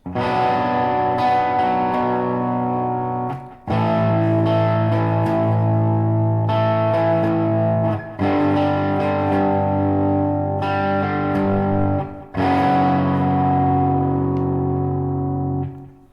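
Distorted electric guitar riff from a song, with a lick played over a ringing chord and moves to power chords, heavy and loud, in several phrases separated by short breaks, no talking.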